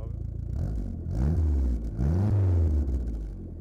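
A warm car engine runs steadily in a low, even rumble, with a couple of gentle swells in revs, close by and with no talking.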